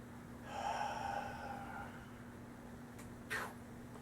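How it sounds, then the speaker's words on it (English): A shooter breathes in and then exhales before taking an airgun shot, a single audible inhale followed by a shorter, sharper breath out, close and quiet. "You breathe in and then exhale."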